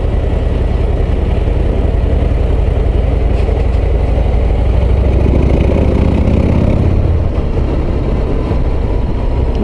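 Harley-Davidson Street Glide ST motorcycle engine, a heavy, steady low rumble that holds loud throughout with a slight change in tone partway, no speech over it.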